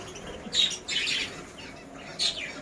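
Baby budgies give short, bright chirps in a few separate bursts, with quiet gaps between them.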